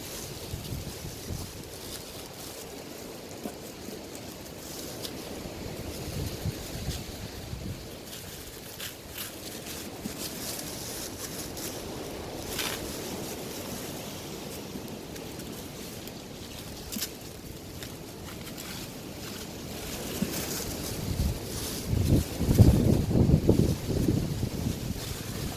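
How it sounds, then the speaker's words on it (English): Wind blows against a microphone outdoors in a continuous rough rumble of gusts that grows stronger toward the end, with no talking. "Would be doing this on a windy day, wouldn't I?"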